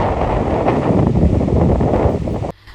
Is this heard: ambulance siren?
no